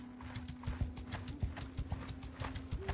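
Horse hooves clip-clop in Mount and Blade II Bannerlord, a quick irregular run of soft thuds from several horses moving at a walk over a faint steady tone.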